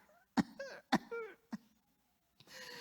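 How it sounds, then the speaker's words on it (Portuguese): Repeated sharp coughs, about four bursts with a pause before a final one, fairly close and moderately loud, with no talking alongside. "Manda que essa tosse vá embora agora."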